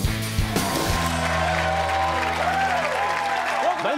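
Studio audience applause on Ridiculousness, Italian-dubbed: dense, steady clapping close up over a short musical sting, lasting the whole few seconds.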